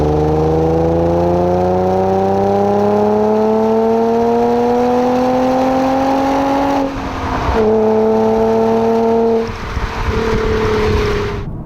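A sports car with an aftermarket exhaust accelerates hard, its engine note climbing smoothly through a long pull, then dropping at two quick gear changes before rising again, loud and close with no talking.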